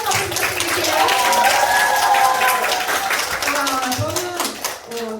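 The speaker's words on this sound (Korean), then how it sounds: "저에게 뜨거운 박수 부탁드릴게요." Applause from an audience at a seminar hall, moderately close, with a clear tonal voice cutting through partway and the clapping thinning toward the end.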